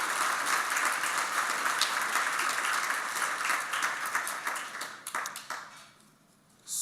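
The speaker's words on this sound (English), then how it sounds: "let's give a big round of applause for" A Rotary club meeting audience applauds, dense sustained clapping that thins out toward the end and fades to near quiet.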